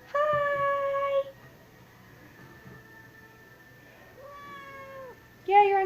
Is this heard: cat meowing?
yes